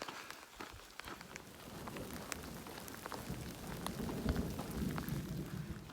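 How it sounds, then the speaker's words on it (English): Steady rain falling on a mountain hiking trail, a dense patter with scattered louder drops and a low rumble underneath, continuous throughout. "I'm hiking in the rain."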